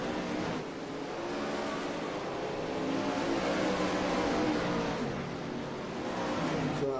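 410 sprint cars in a Dirty Old Bastards series race roar continuously around a dirt track, a dense engine drone that swells and eases slightly as the pack passes at a distance.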